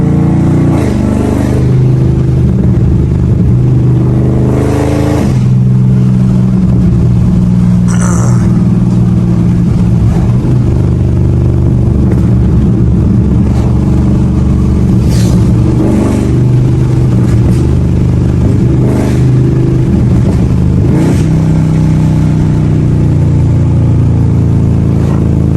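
A cammed Dodge SRT with an aftermarket tune revs hard while driving, loud and close, its engine rising and falling through repeated surges and downshifts, with occasional pops throughout.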